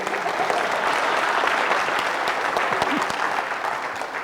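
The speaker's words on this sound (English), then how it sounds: "You can clap." An audience at a keynote talk breaks into steady, sustained applause, a dense wash of clapping from a sizeable crowd that carries on evenly throughout.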